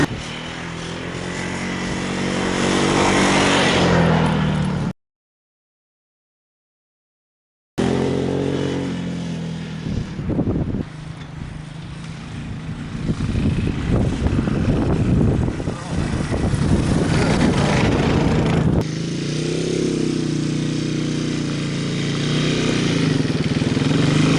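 A Yamaha 225DX three-wheeler ATV rides a trail with a steady, buzzing engine drone that cuts out briefly and then returns, while someone talks over it.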